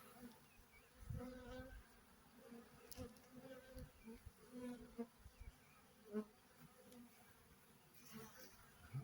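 Faint, continuous buzzing of a honeybee swarm in May with irregular swells, distant and low in level, plus occasional soft handling noises as bees are gathered into a hive.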